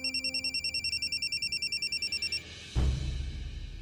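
An electronic telephone bell rings in a rapid, steady warble for over two seconds, then stops as the handset is picked up with a low thump, indoors in a home.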